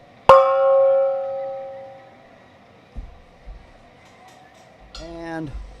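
A big gong is struck once, ringing loudly and sustaining with a slow fade under low background room noise. Two soft thumps follow later, then a voice speaks near the end.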